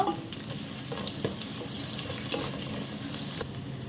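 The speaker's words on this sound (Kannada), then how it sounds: "ಒಂದೆರಡು ಗ್ರೀನ್ ಚಿಲ್ಲಿ ಕೂಡ ಹಾಕ್ತಾ ಇದ್ದೇನೆ ಇದು ಕೂಡ ಚೆನ್ನಾಗಿ ಫ್ರೈ ಮಾಡಬೇಕು" Ginger and a couple of green chilies fry in a pan for a Mangalorean-style mutton curry, giving a steady, close sizzle with faint stirring ticks throughout and no talking.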